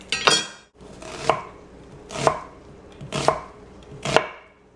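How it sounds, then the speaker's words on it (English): Five sharp knife chops dicing an onion at an even, steady pace, each a crisp thud against a cutting board, close up with no talking. "we're going to dice the onion"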